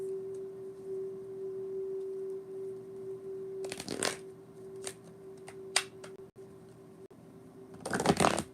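Tarot cards being shuffled in a few quick riffled bursts, with separate crisp flicks between them, all over a steady low tone.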